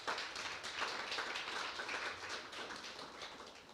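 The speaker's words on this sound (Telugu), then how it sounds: "చప్పట్లు కూడా ఒకసారి." A church congregation at a Telugu gospel sermon claps together in a dense, steady patter of many hands that lasts several seconds without pause, with no voices over it.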